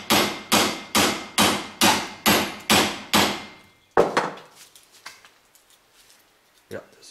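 Heavy hammer blows drive a bearing ring out of the rear axle of a BMW M3 E46: eight loud, evenly spaced metallic strikes, then a few scattered quieter knocks and clanks.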